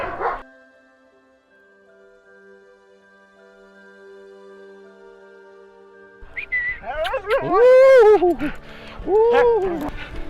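Dogs at an animal shelter, mainly northern and primitive types such as huskies and malamutes, bark and yip loudly in a cluster near the end after a quieter stretch of steady background tone.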